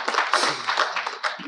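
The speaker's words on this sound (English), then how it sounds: "big applause for that" Brief audience applause at a keynote talk on Gandhi's global legacy, a short burst of scattered clapping, close and uneven, lasting under two seconds.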